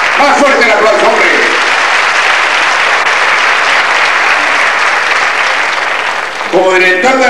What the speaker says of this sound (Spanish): Más fuerte el aplauso, hombre.